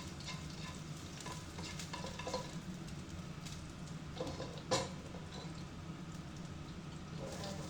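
Garlic frying with pork belly in corn oil in a pan, a soft steady sizzle with occasional stirring scrapes and one brief clatter, quiet and without talk.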